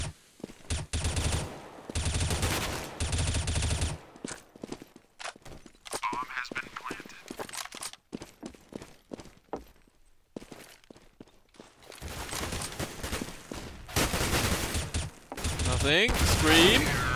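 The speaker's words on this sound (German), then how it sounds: "Da ist ein Gegner, ich schieße den mal eben um." A Counter-Strike match on the Inferno map between Cloud9 and Epsilon brings loud rifle bursts and rapid fusillades, alternating with quieter stretches of footsteps. A commentator talks over the action.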